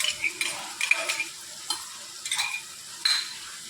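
Stirring a leftover-chapati dish in a pan with vinegar, soy and Schezwan sauces, quiet scraping strokes in an irregular rhythm over a soft sizzle, close and fairly faint.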